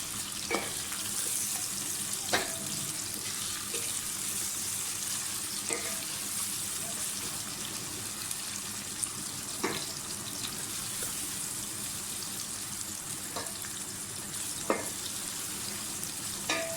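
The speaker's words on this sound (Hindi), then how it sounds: "प्याज को अच्छी तरह से फ्राई कर लें।" Onions frying in hot oil with cumin seeds in a home kitchen pan, a soft continuous sizzle with occasional clinks of a spoon stirring, quiet and close with no talk.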